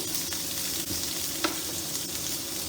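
Potatoes and pointed gourd frying in a pan, a continuous dense sizzle at steady volume with a few faint stirring knocks, no talking.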